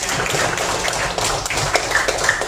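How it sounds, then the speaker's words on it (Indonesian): A class of sixth-grade children claps together in an elementary school classroom, a dense, steady patter of many hands close by with no one talking. "Tepuk tangan untuk kita semuanya."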